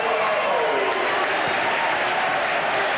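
Football crowd roaring after a goal as fans spill onto the field, a dense sustained wash of cheering and clapping, loud and unbroken.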